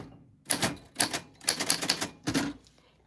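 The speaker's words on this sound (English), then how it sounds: "Just going through and typing everybody I missed and all of the new subs, which is Daniel and Teresa, and Robert," Close, clattering key presses in short bursts at an irregular rhythm, with pauses between clusters and no talking.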